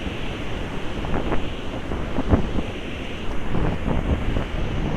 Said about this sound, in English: kind of a choppy day here. You got a wind coming in.